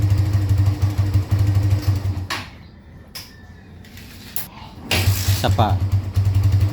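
A Barako 2 motorcycle engine runs with a steady low throb, fades briefly, then picks up again loudly, with a person speaking briefly nearby.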